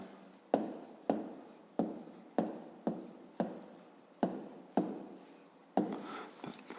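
Pen or pencil writing on paper while noting that two lines intersect in a fifth-grade geometry exercise: close, dry scratching strokes in about ten distinct bursts, each a sharp onset that fades, with no voices.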